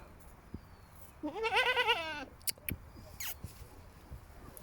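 A single goat bleats close by in a wavering, drawn-out call in a riverside fishing village, with a few soft rustles and clicks around it and no talking.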